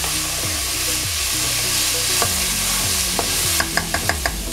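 Chopped onion and bell pepper sauté with a pinch of salt in a pan, a steady sizzle under repeated scraping stirs, ending in a run of quick light taps of the utensil.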